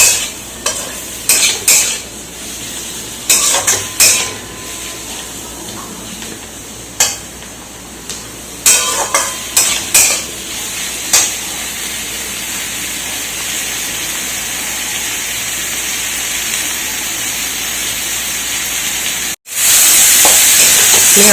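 Chopped ripe tomato sautéed in a pan for a Bengali potato curry, with a continuous sizzle under repeated scraping strokes of a spoon against the pan, the stirring coming in bursts early on before the frying hiss settles in alone.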